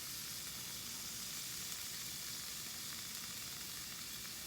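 Bean sprouts, green onions and carrot stir-frying in a hot pan for vegetarian pad thai, giving a dense, constant close-up sizzle with no talking.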